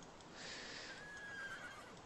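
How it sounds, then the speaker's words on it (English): A horse neighing and whinnying in The Sims 3, faint and outdoors near a house, with a rising whinny followed by soft clip-clop hooves under low ambient noise. "there are horses still outside our house"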